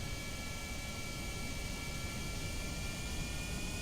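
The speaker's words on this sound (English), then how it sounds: "they've definitely changed the jet engine noise" A steady, droning jet engine roar in Kerbal Space Program 1.4, with a constant hum, unbroken and loud throughout, no voices.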